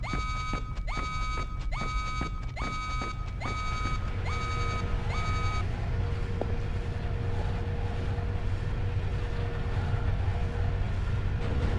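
A level 1 alarm in Splinter Cell Double Agent on PS2: repeated bursts of a harsh, buzzing electronic tone pulse in a steady rhythm, then give way to a sustained low hum over constant mechanical rumble.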